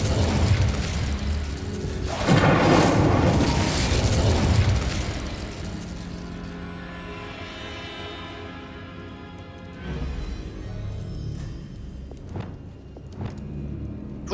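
Incendio fire spell cast in Hogwarts Legacy, a loud roaring burst of flame lasting a couple of seconds, then a quieter crackle and a second smaller whoosh later on.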